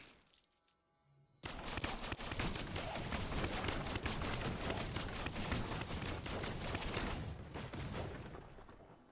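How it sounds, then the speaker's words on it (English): Rapid combat in Diablo 3, a dense, loud barrage of cracking hits like machine-gun fire starting abruptly after a quiet second and running continuously to the end. "Yeah, it sounds like a machine gun, doesn't it?"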